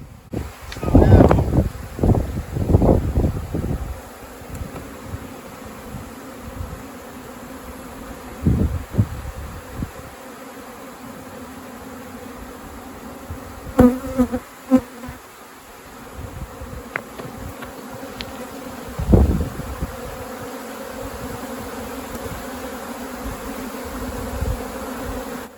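Native honeybees buzz around an open hive during a rescue in Manacor, Mallorca, with several close, loud passes early on and scattered buzzing after, over wind noise at the mic and occasional voices.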